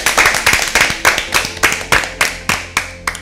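Several people clap together for team A after a correct answer in an Easter Bible quiz, a loud, close run of rhythmic, even claps that keeps going steadily for a few seconds.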